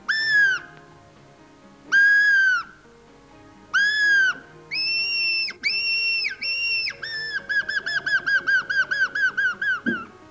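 A man imitates a seagull call with his voice, giving long shrill whistling cries followed by a fast run of short repeated squawks, loud and close with no other talk.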